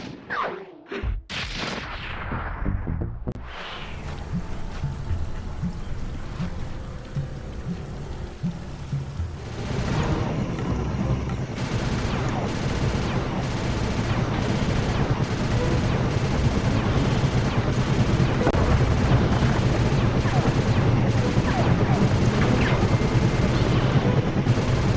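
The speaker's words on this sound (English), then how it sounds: "Nice shooting, Bentley." Gunfire in the video game Sly 2: Band of Thieves starts with a few sharp blasts, then gives way to a dense, loud, continuous rumbling barrage with no talk over it.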